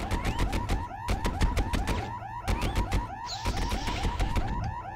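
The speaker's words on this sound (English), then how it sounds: "Is that a stock sound they use for the cameras? For the alarms?" Alarm blaring in the shooter game Fire Warrior, a loud repeating warbling siren pattern mixed with rapid sharp bursts, continuous and close.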